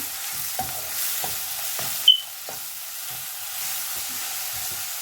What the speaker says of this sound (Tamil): ஸோ வந்து இதையும் இதோட போட்டுட்டு கொஞ்சம் நேரம் வதக்குங்க